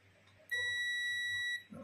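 A multimeter's continuity buzzer, probed across the stator wires of a Honda Click 125 motorcycle, gives a single steady, clean electronic beep lasting about a second against a quiet background.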